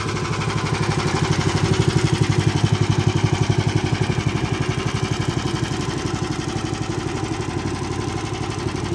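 A Borus 18.5 hp engine runs in a homemade tracked all-terrain vehicle, beating steadily in a fast, even chugging rhythm. It is loud and close throughout, with a fan adding a whirring hiss.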